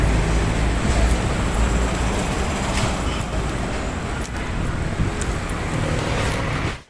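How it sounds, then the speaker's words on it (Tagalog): Busy, fast-moving road traffic along the Manila Bay baywalk boulevard: a continuous loud roar of passing cars and buses, close by, that cuts off abruptly at the end. "Kaya lang, ang dami naman mga sasakyan. Ang bibilis na mga takbo."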